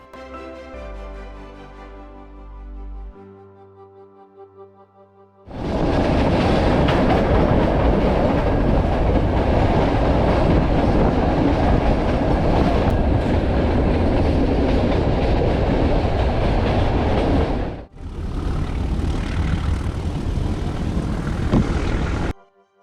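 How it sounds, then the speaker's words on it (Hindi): A heritage meter gauge train on the Junagadh–Veraval line runs on its tracks, first a faint tonal hum, then a loud roaring rumble with dense rattling that briefly drops out and returns, continuous and close. "जूनागढ़ से वेरावल तक जाने वाली इस हेरिटेज और मीटर गेज ट्रेन में"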